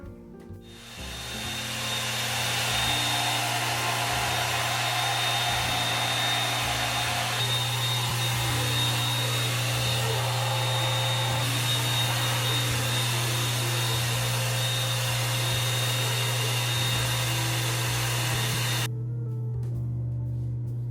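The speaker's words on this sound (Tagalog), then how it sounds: "Ginagamit ko palang pang blow dry ng hair is yung ating Revlon na, hindi ko alam kung anong tawag dito Ayan, Revlon Model RVDR 5279ARB." A Revlon RVDR5279ARB hair dryer blows steadily on hair for about twenty seconds, a loud, close, continuous whooshing hum with a slight shift in tone partway through before it switches off, with no talking.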